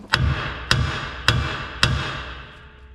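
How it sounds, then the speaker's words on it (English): Hammer striking truck suspension parts on a GMC Sierra to knock them loose, four sharp metallic blows spaced about half a second apart, close and loud, each ringing briefly before the next. "I normally just pop these a couple times with the hammer"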